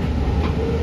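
A BART train rolls along the rails through Oakland on the way to San Francisco, passing the Amtrak yard, with a steady loud rumble and low roar of wheels heard from inside the car.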